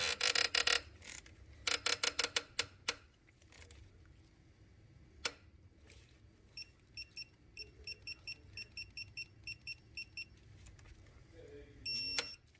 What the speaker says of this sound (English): You guys will hear a beep.